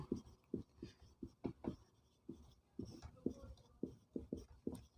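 Chalk or marker strokes on a board during a physics lecture, a steady run of short scratchy taps in quick rhythmic groups with brief pauses, close and fairly quiet.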